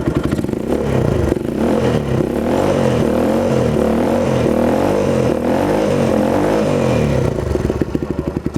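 A Thunder 250 motorcycle with a free-flow exhaust and dB killer revs hard nearby, its loud, throaty engine note rising and falling in continuous pulses for several seconds without any voices.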